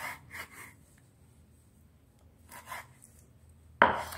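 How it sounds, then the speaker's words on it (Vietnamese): A knife cuts pork intestines into longish pieces for soup, a few soft, close slicing strokes followed by a quiet pause and one sudden loud thud on the board. "phần lòng xong rồi thì các bạn sẽ cắt cái phần lòng ra cho mình nhé"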